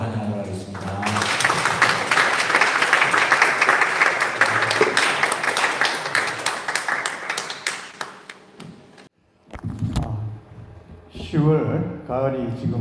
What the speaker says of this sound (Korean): 우리 목사님 하실 때 뜨거운 박수로 환영하도록 하겠습니다